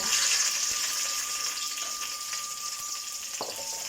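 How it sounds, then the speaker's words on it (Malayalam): Mustard seeds and chillies fry in hot coconut oil, giving a dense, steady close-up sizzle and crackle with a faint clink near the end, no voices. "വെളിച്ചെണ്ണ മൂത്ത് വയ്ക്കാൻ നമുക്ക് കടുക് ഇട്ട് കൊടുക്കാം."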